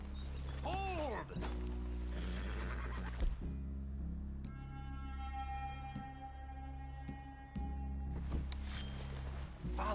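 Horses whinny and neigh in the Red Dead Redemption 2 video game, a descending call near the start and a sustained tone later over a low rumbling ambient bed.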